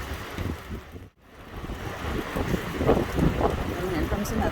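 Strong gusts roar through the trees in Sitka, Alaska, a broad rushing wind that drops out briefly and then builds again, loud and continuous close to the microphone.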